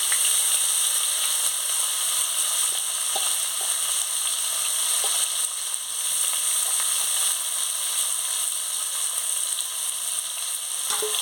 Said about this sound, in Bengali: পেঁয়াজ কুচিটা দিয়ে দিচ্ছি, ভালো করে একটু ভেজে নিচ্ছি